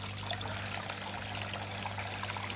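Water trickles and pours steadily from a small pump in a handmade Kedarnath-themed Ganpati decoration, a faint continuous stream with a low electrical hum beneath it.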